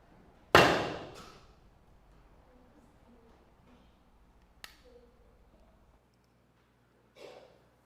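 A single hard hammer blow strikes loudly near the start, with a long decaying ring, followed by quieter scattered knocks and a lighter thud near the end, set within a church sermon on the seven sayings of the cross.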